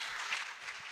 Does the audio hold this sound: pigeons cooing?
no